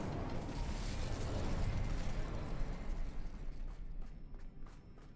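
A fire spell cast in Hogwarts Legacy, a loud broadband whooshing burst of flame that swells and roars for several seconds before crackling and fading, with faint clicks near the end.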